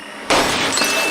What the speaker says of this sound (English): Made the little statue shatter.